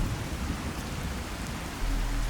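Heavy rain pours steadily through a ceiling in the Fallout 4 game, a dense, even hiss with a low rumble underneath, constant and fairly close, with no voices.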